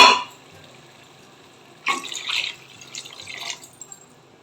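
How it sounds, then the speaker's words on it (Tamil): Four cups of water pour into a pot for Karnataka-style veg biryani, heard as two short gushing splashes after a faint drip, close by and without talk. "கப் ரைஸுக்கு நாலு கப்பு வந்து வாட்டர் சேர்க்குறேன்"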